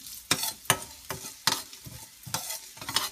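Allspice berries and cloves frying in a hot pan, heard as repeated scraping stirring strokes at a steady rhythm over a soft sizzle.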